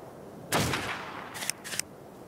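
Gunfire in the video game Ark during a PvP fight: one heavy blast followed by two quicker sharp shots, fairly close and loud, with no talk over them.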